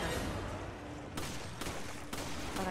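Gunshots in the cooperative co-op game Resident Evil 5 on PS5: a few sharp bursts at irregular intervals stand out over constant game ambience, moderately loud.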